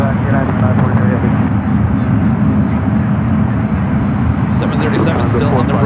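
A Lufthansa Boeing 747 going around at San Francisco airport, a loud, sustained roar of jet engines that fills the whole clip, with faint talk or radio underneath.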